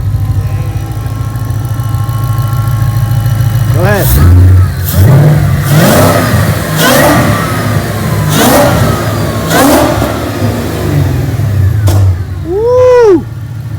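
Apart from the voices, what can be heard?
supercharged Ford Mustang GT 5.0 engine revving, supercharger whine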